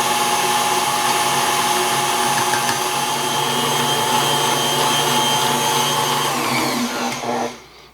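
A stand mixer with a whisk attachment beats egg whites and sugar into a stiff meringue for a strawberry pavlova, a loud, steady motor whir running continuously before spinning down at the end.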